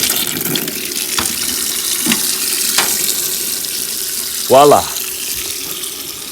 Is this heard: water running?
yes